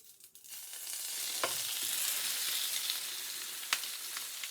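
A shrimp egg foo young patty frying in a pan, a steady close sizzle with a few soft pops and crackles and no talking.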